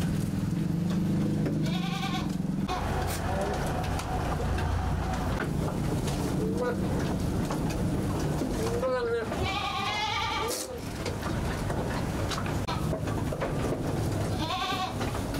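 A pen of about 72 goats being fed silage on a farm, with repeated bleats from several animals scattered throughout, some near and some farther off, over a steady background of rustling and a voice talking.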